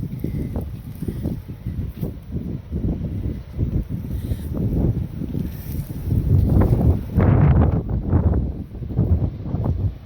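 Strong wind gusts on Long Strand beach in Ireland roar continuously into the microphone with low, buffeting rumbles that swell louder toward the end, with no one speaking.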